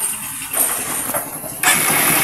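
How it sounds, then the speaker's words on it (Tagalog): A motorcycle engine cranks and catches, then settles into a steady, loud running idle close by, with no talking. "So pandarin natin yung motor."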